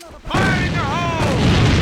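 A grenade explodes in the online shooter Alliance of Valiant Arms during a competitive match: a loud blast starts abruptly and rumbles on, with a voice-like tonal sweep running through it.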